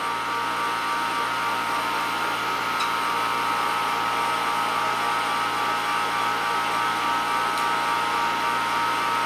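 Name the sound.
turbomolecular vacuum pump running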